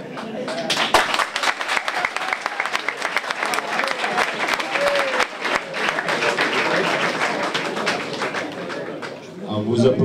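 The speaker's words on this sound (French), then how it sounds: "Alors vous applaudissez vous-même" Conference audience breaks into loud, sustained applause lasting about nine seconds, with crowd voices mixed in. The clapping fades at the end and a voice begins.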